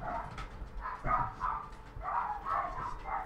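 Several dogs barking and yipping at home in short repeated bursts, fairly close and moderately loud, with whimpering between barks.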